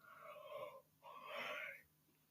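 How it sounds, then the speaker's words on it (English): A tired person yawns close to the microphone, two long, breathy, airy exhalations with a faint wheezy tone, separated by a short pause. "Sorry about that yawning, but I'm just tired."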